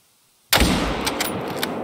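A rifle shot fired at a mule deer while hunting, a single sudden loud blast after silence, followed by a lingering rumbling echo across open country.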